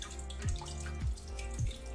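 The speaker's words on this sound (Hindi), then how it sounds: "इसी तरह से अब अपना पानी निकाल लीजिए।" Whey drains from curdled milk while paneer is made for mozzarella cheese, with water trickling and splashing softly in three gurgling pulses over a faint, continuous flow.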